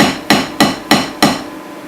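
Drumstick strokes on a drum practice pad: four evenly spaced, sharp, ringing taps, each left to decay naturally, close and clear with no voices.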